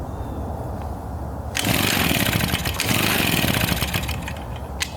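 RedMax EBZ 5150 commercial backpack leaf blower engine, a faulty unit reluctant to run, cranks and catches at about one and a half seconds into a loud, close, rough two-stroke roar that surges and sputters unevenly as if starved of fuel, with no talk.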